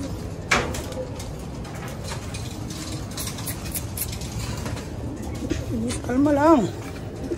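Pigeons in a loft at feeding time, soft bird noises and cooing running steadily under a voice calling and talking, with a brief louder warbling call near the end.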